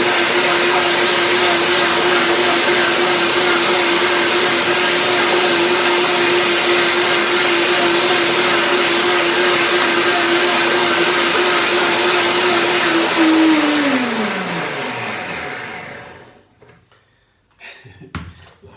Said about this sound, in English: I will blend it again to make it, because after soaking, if you blend it again, it's creamier